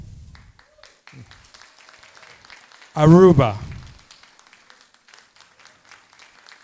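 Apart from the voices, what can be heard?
audience applause for graduates' countries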